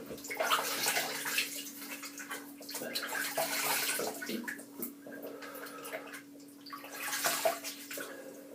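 Water splashes and sloshes as a face is wetted at a sink before a wet shave, irregular bursts close by over a steady low hum, with no talking.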